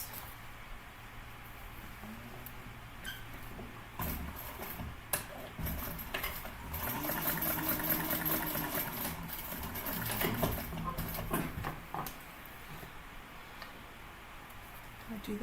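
A sewing machine bastes a Kensley tote with a steady close mechanical whir and rapid ticking needle strokes, swelling in the middle with brief pauses and small clunks.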